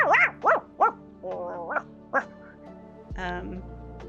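A voice imitates a dog barking: a series of short, sharp woofs with pitch sweeps, about five or six in quick succession, close and loud, then a longer held bark-like call.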